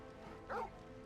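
Torgal, the dog companion in Final Fantasy XVI, gives a single short bark-like yip midway, fairly close, over a steady low game ambience.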